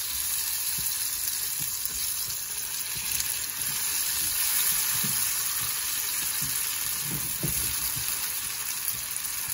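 Pepper and tomato fry over medium heat for a corned beef omelette dish, a continuous moderate sizzle with a steady high hiss and soft intermittent stirring knocks; nobody talks.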